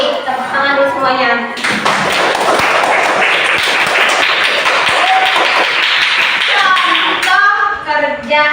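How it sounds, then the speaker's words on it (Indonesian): A classroom of students claps together for a clean classroom, a burst of fairly close, sharp claps and taps lasting several seconds, bracketed by a teacher's voice talking before and after. "tepuk tangan dulu semuanya"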